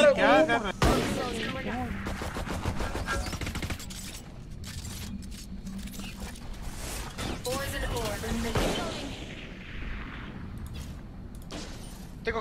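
Spectre submachine gun fire in the game Valorant crackles in short rapid bursts with mechanical clicks and clatter, set against quieter in-game ambience.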